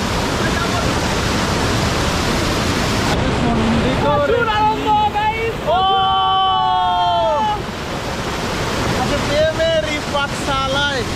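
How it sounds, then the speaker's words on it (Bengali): Loud, steady roar of strong, high-pressure water rushing at a stream near Sittong, close and continuous, with excited voices talking over it part of the time. "ও মাই গড, দেখো প্রচুর চাপ, জলের প্রেসার ওখানটা প্রচুর প্রেসার, প্রচুর।"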